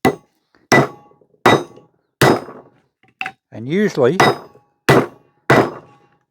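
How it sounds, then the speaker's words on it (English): A mash hammer strikes a piece of metal on a workbench, eight sharp, loud ringing blows at a steady pace, with a brief spoken phrase between them. "And a decent mash hammer."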